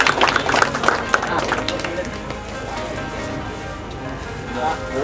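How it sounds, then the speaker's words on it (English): Birthday round of applause from a small group, dense rapid clapping that is loudest at the start and then thins into a softer patter, with voices mixed in. "Round of applause,"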